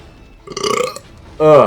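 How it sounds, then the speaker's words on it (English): A loud, close burp ends the clip with a strong voiced rumble, coming after a shorter, noisier burst of sound a moment earlier. "Forgive that burp, please."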